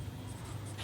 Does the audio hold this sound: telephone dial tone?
no